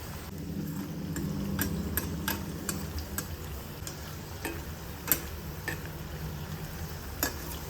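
Food frying in a shallow layer of oil, a steady soft sizzle with occasional stirring clicks and taps of a utensil against the pan, close by and without talk.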